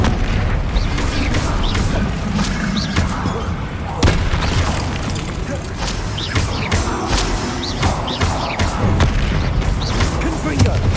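Bombarda and Incendio spell blasts in a Hogwarts video game, a dense, loud stream of booming impacts and fiery bursts overlapping continuously, with battle noise throughout.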